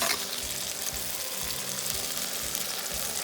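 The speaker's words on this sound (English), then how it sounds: "And then we will add in our egg." An egg frying in a hot pan for a Gambian-style breakfast, a loud steady close sizzle with a faint low pulsing underneath, no talking.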